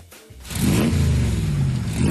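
An ATV engine revs up and holds a steady, loud mid-pitched drone close by, rising quickly after a short quieter start, during a sunset ride in Phnom Penh.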